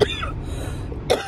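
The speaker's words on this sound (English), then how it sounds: "My cough has been terrible since I woke up." Two sharp coughs from a woman with a bad morning cough, one at the start and another near the end, close and fairly loud, with quieter breathy sound between.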